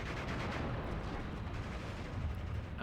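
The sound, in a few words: 82mm mortar artillery fire in Steel Division 2 video game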